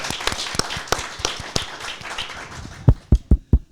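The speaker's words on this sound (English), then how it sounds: "So please give them a round of applause" Scattered applause from a symposium audience, thinning into a few separate loud claps near the end, with no voices over it.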